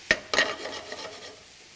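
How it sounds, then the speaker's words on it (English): Small mushrooms sautéed in a pan for mushroom salsa, two sharp scraping strokes of a utensil followed by softer rasping stirs over a faint sizzle, close and brief with no talking. "You just want to give it a nice saute."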